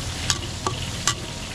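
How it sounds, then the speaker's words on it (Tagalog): Garlic, onion and ginger sautéing in a pan at a wedding catering kitchen, a steady soft sizzle broken by three sharp scraping stirs spaced evenly apart. "gigisa lang natin ng mabuti yung ating bawang sibuyas at luya"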